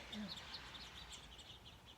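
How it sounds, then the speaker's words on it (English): Birds chirping and calling outdoors, a faint scattering of short high tweets running steadily through the background. "Do you hear the birds?"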